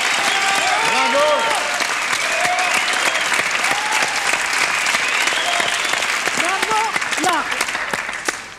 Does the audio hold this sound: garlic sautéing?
no